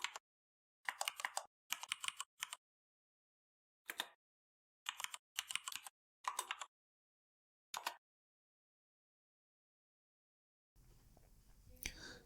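Typing on a computer keyboard comes in short, quiet bursts of rapid clicks separated by silent pauses, and ends in a stretch of faint background noise.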